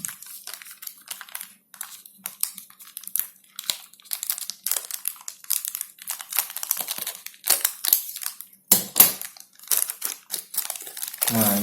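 Sealed packaging for a 1TB WD Blue SSD is torn and crinkled open, with close, bursty plastic rustling, crackling and ripping in irregular bursts, and a harder rip near the end.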